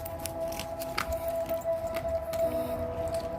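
Dogs on a raw barf diet chew and gulp raw food close by, wet squishing bites with crunchy cracks at an irregular pace, no voices over it.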